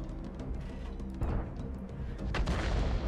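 Tank cannon fire from World of Tanks booms and rumbles in a dense battle mix, with several heavy blasts and rolling low thunder at a moderate level.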